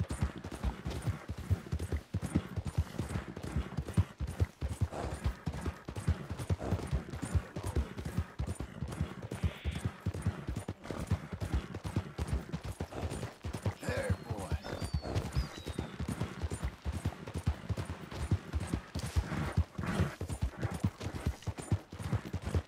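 Steady rhythmic hoofbeats of a galloping horse in the game Red Dead Redemption 2, continuous and fairly close, with a brief whinny partway through and no talking.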